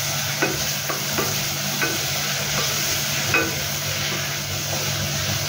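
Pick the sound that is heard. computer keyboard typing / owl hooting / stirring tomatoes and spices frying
stirring tomatoes and spices frying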